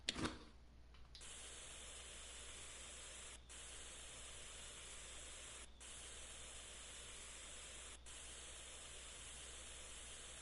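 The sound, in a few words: sanding a KV-2 tank in Tank Mechanic Simulator video game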